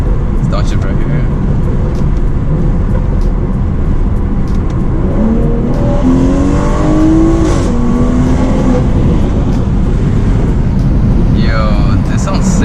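A modified BMW 340i M Sport, recorded from inside the cabin, launches and accelerates hard with a rising engine note through gear shifts, while occupants talk over it.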